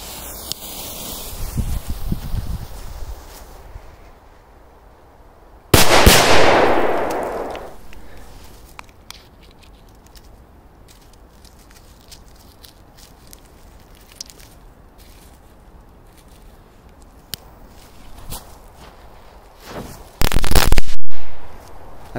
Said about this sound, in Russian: P100 и пиратка. В принципе, аналогичная петарда, но по мощности кто его знает.